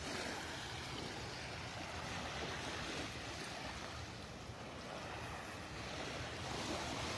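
Ocean surf washing steadily onto the beach at Delnor-Wiggins Pass park in North Naples, Florida, a continuous broadband roar of breaking waves with some wind noise on the microphone, no voices.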